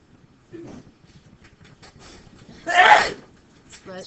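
One loud, close sneeze bursts out in a quiet room, with faint murmuring and small noises before it.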